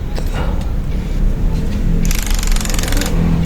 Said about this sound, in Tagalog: gamit tayo ng impact para mas mahigpit